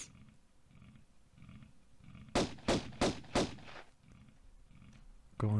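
Lara firing her pistols at a crocodile in Tomb Raider, four sharp, evenly spaced shots in quick succession, loud over a quiet ambient loop, followed by a final abrupt hit at the end.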